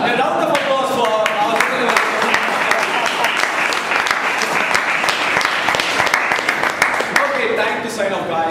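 Loud, lively applause from a crowd at a Friday evening event, dense clapping running the whole time with some cheering voices mixed in.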